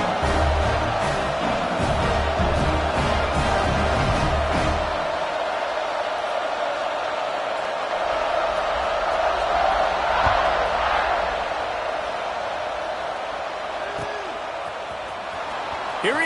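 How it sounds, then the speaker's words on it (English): A college football stadium crowd buzzes after a touchdown, a broad, steady roar of many voices filling the background. Thumping impacts and broadcast commentary sit on top in the first few seconds, then the crowd noise carries on alone. "this crowd is buzzing after that last score"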